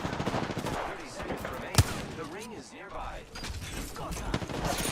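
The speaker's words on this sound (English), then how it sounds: "I am taking fire, friends." Rapid automatic gunfire in the Apex Legends battle royale game, dense bursts and one sharp close shot amid a busy mix of game sounds.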